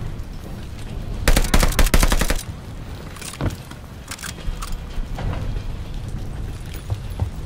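Call of Duty: Vanguard gunfire rattles out in a loud, rapid machine-gun burst, followed by scattered single shots and sporadic bursts amid a rumbling train-like background, close and intense.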